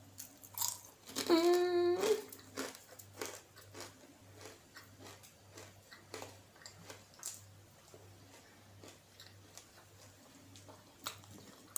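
Soft, close chewing of home-style food, with grilled meat mentioned, comes as a run of quiet irregular crunchy bites and mouth clicks over a faint steady hum, with a brief tonal sound near the start.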